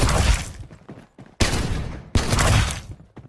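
Three heavy shotgun blasts ring out in the video game Farlight 84, loud and close, each a sharp booming crack with a short tail, spaced about a second apart.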